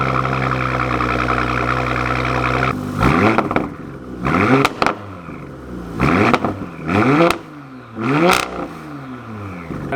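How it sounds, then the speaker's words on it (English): An Audi RS5 fitted with an AWE Touring exhaust cold-starts with a loud steady idle, then the engine is blipped in five sharp revs, each rising and falling quickly, heard close up. "AWE Touring exhaust recently installed with a cold start."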